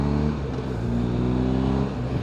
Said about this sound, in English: Let me just cut through the traffic.